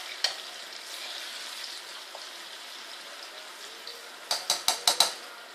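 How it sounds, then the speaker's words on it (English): Plantain slices fry in a pan over low heat with a steady, close sizzle, then a quick series of sharp clinks and scrapes near the end as the pan is handled. "let it fry and give it a nice golden brown until it's nice and soft"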